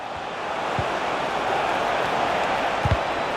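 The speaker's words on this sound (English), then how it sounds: "just listen to this crowd" A large stadium crowd roars in the FC 26 football video game during a Manchester United vs Liverpool Premier League match, a dense, steady wash of cheering with a few soft thumps.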